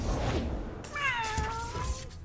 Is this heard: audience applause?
no